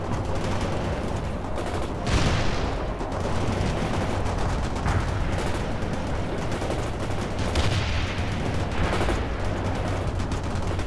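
Battlefield gunfire in the real-time strategy game World in Conflict, a continuous dense rattle of rifle and machine-gun shots with heavier booms, steady and moderately loud throughout.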